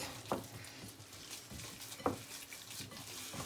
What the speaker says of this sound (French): je continue à mélanger ma farce avec le jaune d'œuf et